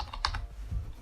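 Keys clack on a computer keyboard as text is typed into a web form field, a quick, quiet burst of several close taps in about a second.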